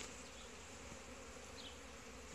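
A steady, soft buzzing drone of many honeybees flying around apiary hives, continuous and even, with no voices.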